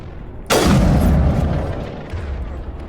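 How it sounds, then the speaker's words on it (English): One heavy sniper rifle shot booms close and loud in the video game Mass Effect, its blast rolling off into a long decaying rumble, followed by a softer thud near the end. "The sniper rifle is such a powerful weapon in this game."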